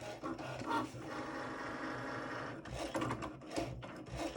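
A Cricut Maker cutting machine works with an engraving tip on genuine leather for a keychain, giving a steady mechanical whirr and hum with shifting pitch and brief louder bursts near the end, heard close with no talking.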